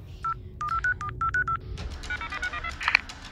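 Telephone number dialed on a keypad in an animated sci-fi web series, a run of about ten distinct touch-tone beeps in quick rhythm, followed by fainter tones and a brief electronic chirp near the end.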